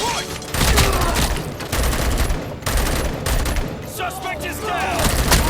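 Heavy gunfire from the RoboCop: Rogue City video game, dense overlapping automatic bursts and sharp shots in rapid fusillade, loud and continuous, with shouted voices mixed in.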